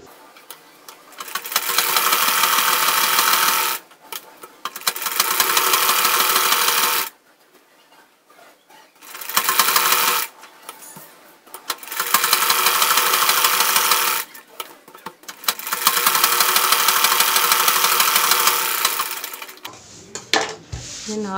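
A sewing machine stitches layers of old cloth into a doormat, running in several long loud bursts separated by short pauses as the fabric is repositioned.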